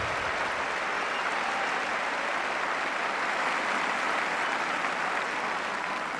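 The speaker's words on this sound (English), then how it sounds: "that applause tells its own story of the epic quality of this match" Steady, sustained applause from the Wimbledon tennis crowd during a 1977 semifinal between Borg and Gerulaitis, a dense even wash of clapping that holds at a constant level throughout with no talk over it.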